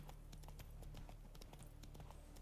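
Roach, a horse in The Witcher 3, clip-clops along in a quick, even rhythm of crisp hoof strikes, fairly quiet and with no voices over it.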